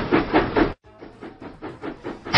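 Steam engine puffing in a Thomas & Friends children's video game: a steady rhythmic chuff of repeated bursts, loud and close, with a brief gap partway through, and no talking.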